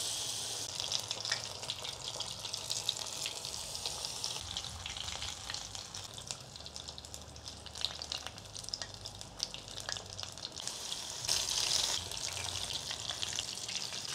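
Battered prawns fry in hot oil for a restaurant-style tempura, giving a continuous soft sizzle and crackle, with occasional stirring and water-like gushes, at a fairly low level and with no talk.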